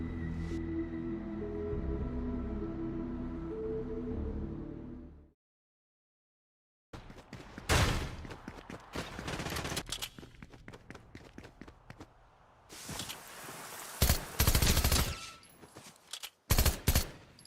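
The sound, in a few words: gunfire from a gun in a video game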